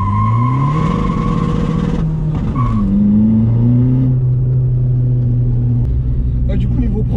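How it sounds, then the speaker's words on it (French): A Seat Ibiza 6L 1.9 TDI diesel pulls at full throttle in first gear, a loud close engine drone climbing in pitch before easing off, with people talking over it. "Première à fond, accélérateur à fond,"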